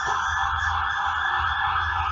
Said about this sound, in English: just waiting for all of the sirens and everything to go by